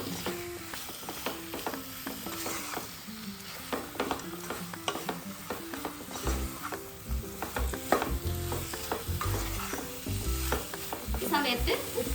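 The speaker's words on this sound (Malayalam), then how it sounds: "ചിക്കൻ ഇട്ടിട്ട് ഒരു അഞ്ച് മിനിറ്റ് ഒന്ന് വഴറ്റി കൊടുക്കുക" Chicken pieces sautéing in a pan, a loud close sizzle with frequent rhythmic spatula scrapes and clacks against the metal, steady throughout, nobody speaking.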